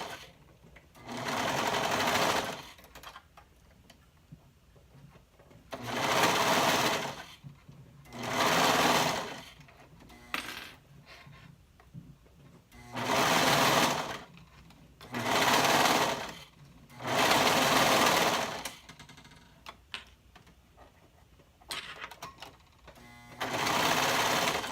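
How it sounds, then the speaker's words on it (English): A serger sewing machine stitches a fabric seam for a tank bodice in loud, close bursts of rapid whirring, each run lasting a couple of seconds, separated by pauses with faint handling noise. "You need to definitely go slowly if you're using the serger to make sure you don't catch any fabric that you're not supposed to"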